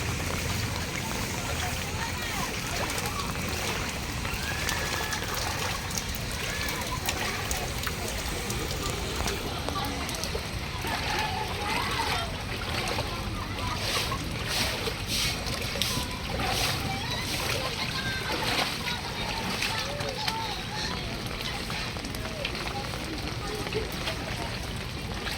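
Feet or vehicles splash through deep, dirty flood water in a street in Tondo, Manila, during heavy rain: continuous churning water and splatter, loud and close, under people talking.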